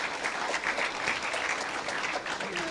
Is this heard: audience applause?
yes